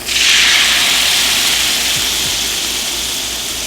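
A loud, steady hiss of dry white vermouth hitting softened shallots in a hot pan, bursting up at first and then settling into an even steam-like sizzle.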